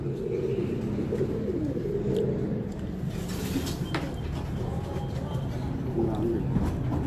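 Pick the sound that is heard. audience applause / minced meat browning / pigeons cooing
pigeons cooing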